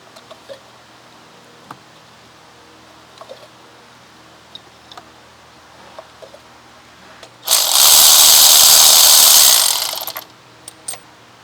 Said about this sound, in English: I'm gonna go ahead and remove the plugs.